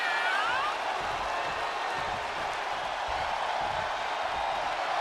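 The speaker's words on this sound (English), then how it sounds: "The WWE Universe is showing their appreciation for the action they're seeing." Dense, steady roar of a virtual arena crowd applauding and cheering in the WWE 2K25 wrestling game, loud and continuous throughout with no clear breaks.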